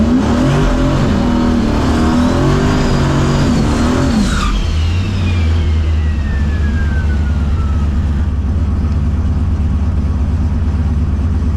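Drag racing car launching down the strip on a pass, a loud sustained engine roar climbing in pitch then dropping to a steady drone as it pulls away.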